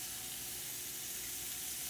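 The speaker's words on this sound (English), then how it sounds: "Wow, just hearing that frying sound." Chicken on a grill sizzling faintly, a soft, steady hiss of frying with no talk over it.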